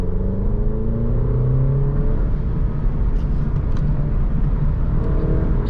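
An Alfa Romeo Giulia accelerates hard out of a corner on a test drive, its engine a loud, steady, close rumble that climbs through the revs with some tire and road noise and no talking.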